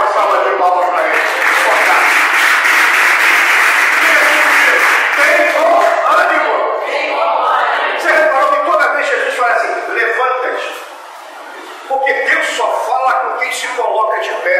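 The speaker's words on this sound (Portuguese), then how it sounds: "dê uma salva de palmas para ele" A church congregation at a gathering for singles, widowed and divorced people breaks into loud, sustained applause with cheering voices, the clapping thinning and growing more rhythmic toward the end, with a brief dip before it swells again.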